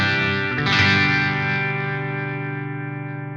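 An electric guitar played clean and dry, straight into the amp with no effects, plays one chord that rings out and sustains, slowly decaying with no other instruments.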